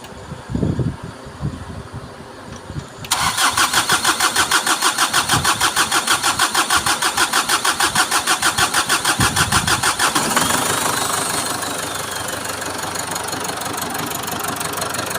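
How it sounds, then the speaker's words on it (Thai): A Mazda BT-50 / Ford pickup diesel engine cranks and catches, then settles into a loud, steady, rhythmic idle with a pulsing knock, heard close and alone with no talk. "เครื่องติดแล้วนะครับ"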